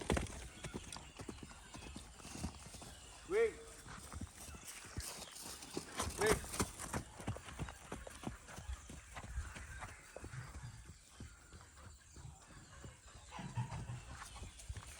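A mare ridden in a training run in Mae Sot gallops with steady, rapid clip-clopping hoofbeats on a grass track, moderately close, with a rider's voice calling out over the hooves.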